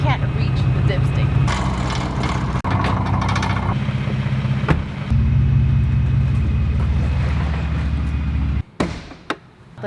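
A car engine idles with a low, steady rumble nearby, interrupted by a few clunks and mechanical noises, then cuts out near the end.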